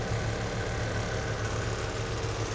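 A truck engine idles steadily during a roadside brake test, a low continuous rumble with an even pulsing throb, near and unbroken, no voices.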